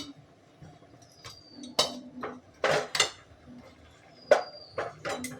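A metal lid being set onto a cooking pot while an oil-free banana-flower ghonto cooks, giving a series of sharp metallic clinks and clatters, some ringing briefly, spaced irregularly against a quiet kitchen background.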